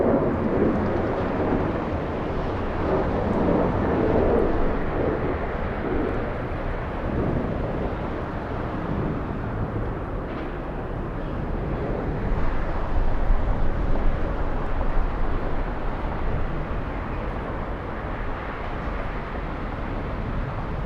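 An airliner on its takeoff run at Atlanta Hartsfield-Jackson airport gives a steady, distant jet roar that swells and rumbles for about twenty seconds, with no talking.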